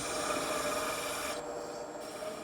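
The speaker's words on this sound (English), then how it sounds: "Now I've switched to a small gouge to make a series of flutes." A small wood-carving gouge cuts flutes into wood for a giltwood mirror frame, giving a steady, close rasping scrape that runs continuously, with no talking.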